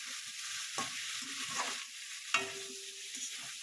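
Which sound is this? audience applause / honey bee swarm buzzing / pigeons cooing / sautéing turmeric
sautéing turmeric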